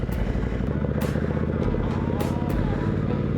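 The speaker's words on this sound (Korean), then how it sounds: "시동 킨다." Ducati Scrambler Icon motorcycle engine running with a steady, dense low rumble and periodic revving pulses, close and continuous throughout, carrying a rider and passenger on the road.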